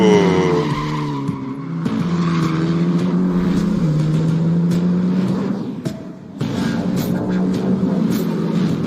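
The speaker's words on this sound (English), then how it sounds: "recreate and capture the sounds that really bring these vehicles to life" Car tires squeal and skid in Cyberpunk 2077, a loud sustained screech over a roaring engine, dipping briefly near the end before resuming.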